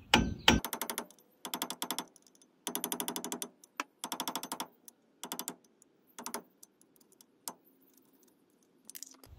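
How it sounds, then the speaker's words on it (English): Light metallic tapping as a hammer drives a screwdriver or chisel against the front wheel hub dust cap of a rear-wheel-drive Toyota Pickup/Hilux, coming in several quick rapid-fire bursts with short pauses between them, close and fairly faint. "use a screwdriver and a hammer to take off the dust cap"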